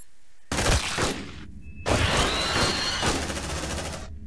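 Bursts of automatic gunfire from colonial marines in the sci-fi game Aliens: Dark Descent, two loud sustained volleys separated by a brief pause, close and dominant with no talk over them.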